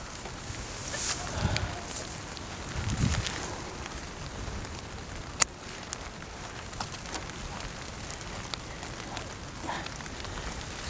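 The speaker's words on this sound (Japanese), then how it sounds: "いや、しかし初日から大雨" Heavy rain falls steadily on a vegetable farm during a summer harvest of peppers and round eggplants, a dense continuous hiss with a few louder patters, with no talking.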